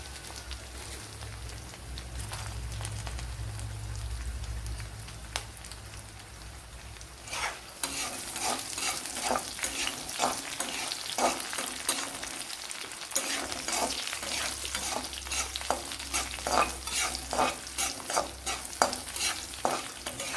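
Star anise and cashew nuts fry in a pan of oil, a steady close sizzle that grows busier partway through, with scraping stir strokes and crackles over it; no one speaks.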